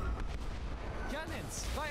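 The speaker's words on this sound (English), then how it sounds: "Enemies opening fire." Enemy ship cannons firing in the video game Airship: Kingdoms Adrift, with booming artillery blasts over a dense, steady battle din and sharp whistling streaks near the end.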